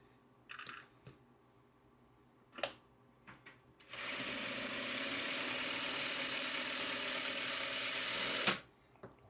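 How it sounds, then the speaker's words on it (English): A sewing machine runs a quarter-inch seam down one side of a quilt four-patch, humming steadily for about four and a half seconds after a few light clicks and taps, loud and close. "just gonna sew 1/4 inch down on one side"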